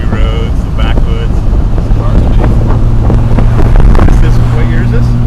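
A 1974 Triumph TR6 drives the winding mountain road through Smugglers Notch near Stowe, Vermont, its engine droning steadily beneath heavy wind buffeting with occasional gear-change shifts in pitch, loud and continuous throughout.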